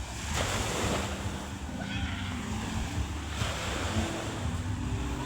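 Sea surf washing onto a crowded, littered beach lined with many boats and cottages, a steady close roar of breaking water with wind buffeting the microphone throughout.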